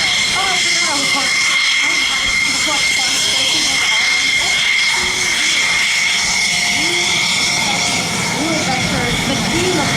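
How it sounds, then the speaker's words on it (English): A military C-147A, the Dash-8 transport variant, makes a fast flyby at the Oshkosh airshow, a loud sustained engine and propeller roar that holds steady throughout, with faint background voices beneath it. "This is the C-147A, the military version of the Dash-8."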